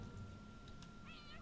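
A house cat in The Sims 4 lets out one short, rising meow near the end, heard over a steady low background of game ambience.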